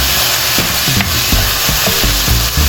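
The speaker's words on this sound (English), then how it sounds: "I'm going to go ahead and add my ground turkey" Ground turkey frying in a hot pan over sautéed vegetables, a loud steady sizzle with several scraping stirs of a utensil, no voices.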